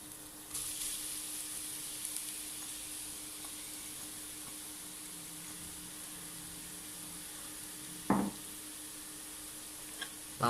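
Garlic and onion sizzling steadily in a pan in an open-air kitchen setting, a soft continuous hiss with a brief clank partway through, no talking.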